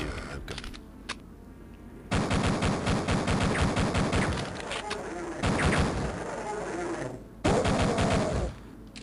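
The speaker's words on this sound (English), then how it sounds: "Shotgun battle! Shotgun battle!" Rapid shotgun blasts from the Duke Nukem 3D video game, loud repeated bursts in dense clusters separated by short pauses.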